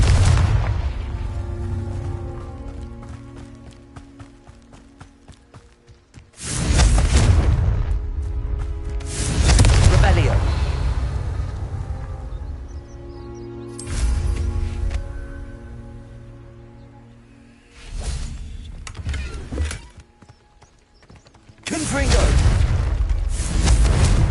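Confringo spell blasts in Hogwarts Legacy go off as several loud booming explosions spaced a few seconds apart, each followed by rumbling decay, mixed with game sounds.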